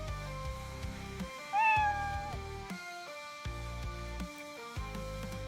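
A chat-command cartoon cat meow plays as a short, high, tuneful mew, heard once clearly against soft background game music with no talk.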